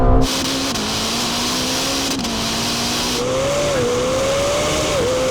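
A Lamborghini Temerario and a Ferrari SF90 accelerate hard in a drag race, their engines droning loudly with a steadily climbing pitch broken by brief dips at gear changes, heard alone without talk.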